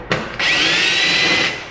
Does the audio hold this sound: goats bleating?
no